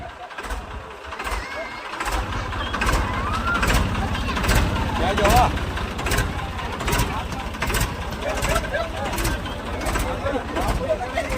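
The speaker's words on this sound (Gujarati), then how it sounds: "અમારા મગનભાઈ બારીજા ટ્રેક્ટર લઈને તૈયારી કરીએ છીએ" A tractor engine runs steadily at a Ganpati festival procession, a loud continuous rumble with repeated sharp bursts, while people talk over it throughout.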